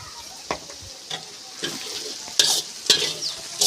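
A spoon stirs mung bean pulao in a pot with a series of scraping, clattering strokes over a soft background sizzle, growing louder toward the end.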